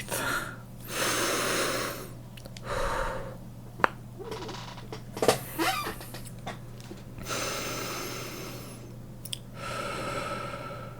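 A person breathing deeply and audibly to stay calm, long drawn inhales and exhales with a few sighs and snorts, close to the microphone over a low steady hum.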